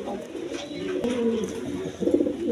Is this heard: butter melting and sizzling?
no